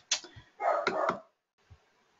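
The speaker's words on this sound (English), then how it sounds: "You may be able to hear my dog downstairs now." A dog barks a few times from downstairs, short muffled woofs with a brief gap, then a faint final yip, heard alone in an indoor room.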